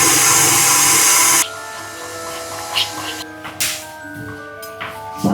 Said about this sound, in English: And now I will turn on the mixer again.